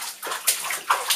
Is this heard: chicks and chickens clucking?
no